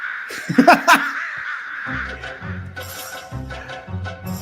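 Harsh crow caws, a few loud, close calls in quick succession, followed by low mumbling voices and sounds that carry on beneath.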